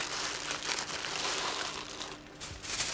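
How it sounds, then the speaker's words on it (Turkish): Close, continuous crinkling and rustling of baking paper being folded and wrapped around lamb ribs, with brief pauses in the handling. "Ve daha sonra da yağlı kağıtla sarıyorum."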